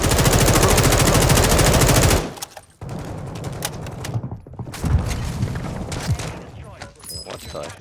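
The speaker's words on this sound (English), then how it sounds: "We're just getting shot from like every angle." Rapid automatic gunfire sounds in a video game firefight, a loud steady burst of machine-gun fire. It then breaks into scattered shots and booms amid game noise, with players talking over parts of it.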